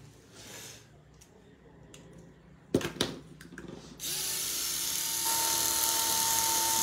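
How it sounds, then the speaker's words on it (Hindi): A small round toy drone: a few clicks and a sharp clattering thump of handling, then its rotors spin up into a steady, close, high whirring whine that continues to the end. "ये राउंड ड्रोन मिलेगा जी"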